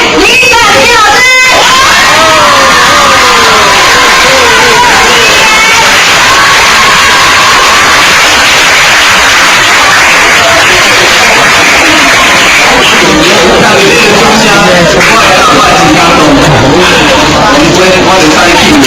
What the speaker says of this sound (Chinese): 我们现在这里最热情的掌声以及最动人的尖叫声，来欢迎我们这一位李展平老师